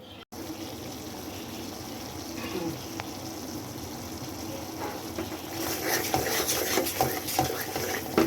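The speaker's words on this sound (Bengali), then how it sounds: "এখন আমি মশলাটা ভালো করে কষাই।" Masala for a chicken roast stir-fried in a pan, a steady sizzle with clinks and scrapes of a spoon against the pan, growing busier and louder toward the end.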